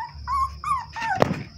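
A dog out at a country property gives a few close, high, drawn-out whines and whimpers, then a short sharp yip at the end.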